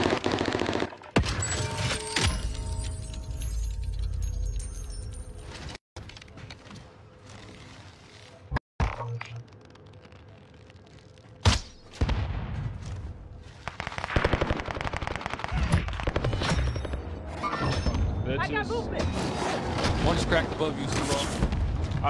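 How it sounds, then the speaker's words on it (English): Rapid bursts of automatic gunfire from a shooter video game crackle loudly and repeatedly over several seconds, with a few sharp single shots and intermittent player voices mixed in. "Why is he shooting at me way over there?"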